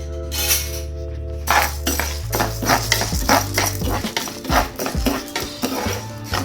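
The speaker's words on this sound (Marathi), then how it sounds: "2 स्पून चणा डाळ, 2 स्पून उडद डाळ हे भाजून घेणार आहे चांगलं दोन्ही साईड लालसर" Chana dal and urad dal roasting in a spoon of oil in a kadai, a rapid series of close, crisp scraping and clinking stirs after a quiet start, with no talk.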